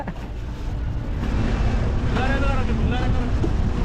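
Steady houseboat engine drone over backwater in Alappuzha, with wind buffeting the microphone and a voice talking partway through.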